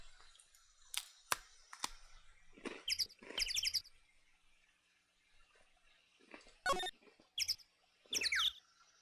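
Birds chirp in the background of the video game Phoenix Wright: Ace Attorney, in several short bursts of bright, repeated tweets with quiet gaps between them.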